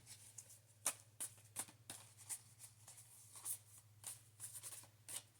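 Oracle cards are shuffled by hand, giving soft, quiet riffling and brushing noises in short irregular bursts over a low electrical hum.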